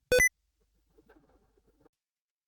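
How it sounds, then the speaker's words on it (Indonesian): On Windows 11, pressing Shift five times triggers the Sticky Keys alert: a single short, bright electronic beep at the start, followed by near silence with a few faint clicks. "akan terdapat bunyi dan akan muncul pemberitahuan mengenai sticky key"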